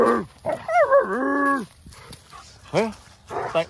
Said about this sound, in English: What you barking at?